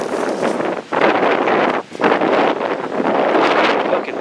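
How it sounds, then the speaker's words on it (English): Strong wind blows hard across the microphone ahead of a storm, a loud continuous roar with brief lulls near one and two seconds before gusting back up, with no talk. "Fucking wind blowing."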